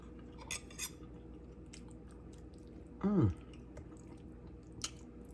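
Someone eats sauerkraut with a little hot sauce, giving a few soft wet chewing and utensil clicks and one louder squishy bite, close and quiet with no talking.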